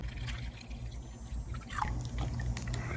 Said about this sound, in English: I'm gonna go ahead and add about a cup of vinegar, so we've got equal parts